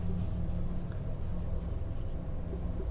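Marker strokes on a board during a Class 9 maths lesson, a run of quick scratchy squeaks in short bursts, close and clear against a faint room hum.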